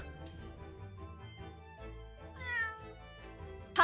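Wagahai the cat meows in the Dai Gyakuten Saiban video game, a clear rising meow over soft background music.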